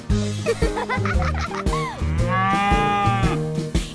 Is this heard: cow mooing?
yes